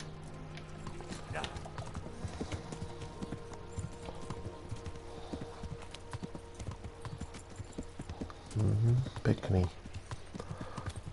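Steady clip-clop of horse hooves from Kingdom Come: Deliverance runs throughout, with a person talking over it and a louder low burst near the end.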